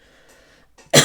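A woman with a cold coughs once, a sudden loud burst that cuts off quietly trailing speech-like murmur before it.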